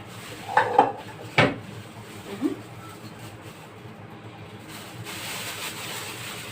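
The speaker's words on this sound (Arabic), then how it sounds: "واغسل بقى المواعين اللي انا طلعت بقى منها اللحمه المفرومه" Dishes, pots and cutlery clatter in a home kitchen as they are washed after cooking minced meat, with a few sharp close clinks and knocks early, then quieter running-water-like hiss toward the end.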